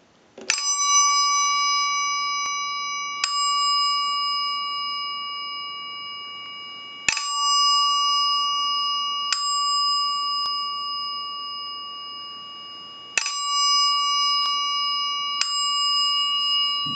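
A Northern Telecom bell ringer in chime mode strikes clear, bright chime tones in a repeating pattern of pairs of strikes, each ringing out and slowly decaying before the next pair, loud and alone with no talk.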